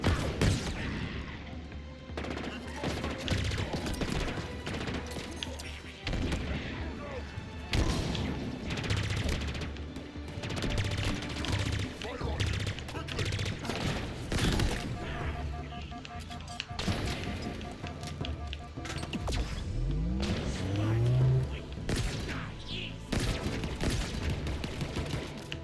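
Continuous heavy weapon fire in Halo Infinite on Legendary difficulty, dense rattling bursts with crashes and impacts, loud and close throughout with brief lulls between volleys.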